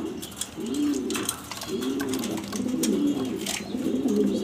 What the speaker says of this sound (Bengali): দেখবেন সেরা সেরা টপ কোয়ালিটি গ্রিজেল কালার নর কবুতর, মাদি কবুতর,